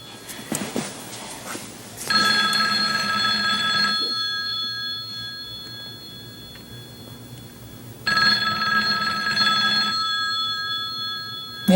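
An old-fashioned telephone bell ringing in two long, loud rings separated by a pause, clear and close with no talk over it.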